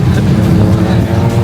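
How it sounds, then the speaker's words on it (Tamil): Jeeps driving up Mount Batur in Bali, overtaking one another, heard as a loud, steady engine roar close by throughout. "இப்ப நம்ம எல்லா ஜீப்பை ஓவர்டேக் பண்ணிட்டு போறோம்."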